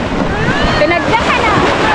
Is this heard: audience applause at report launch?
no